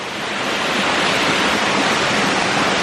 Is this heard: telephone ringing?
no